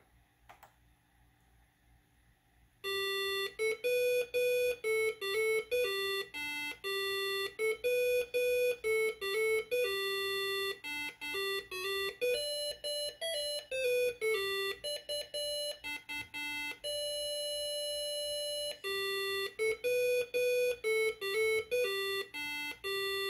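Square-wave beeping from an FPGA core of the Intellivision CP1610 processor wired to a simple audio circuit: a loud, steady run of rapidly stepping electronic tones and bleeps, like crude early-1980s game music, with no talk over it.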